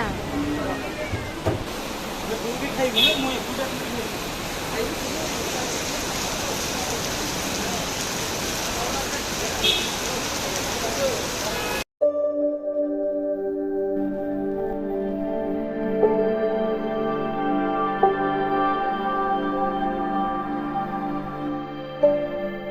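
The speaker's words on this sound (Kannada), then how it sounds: "ಮಳೆ ಬರ್ತಾ ಇದೆ" Rain pours down in a steady, dense hiss for about twelve seconds, then cuts abruptly to a music track.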